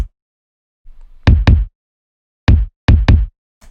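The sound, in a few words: stock sample kick drum in a beat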